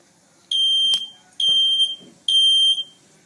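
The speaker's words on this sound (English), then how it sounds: "you hear the ringing fire alarm sounds and react accordingly" Home smoke-and-fire alarm sounding three loud, piercing electronic tones of about half a second each in a steady pulse, close by, with faint knocks between the tones.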